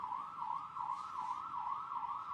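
An emergency vehicle siren wails in a steady, rising-and-falling cycle from a street, fairly faint and distant, repeating several times with no speech over it.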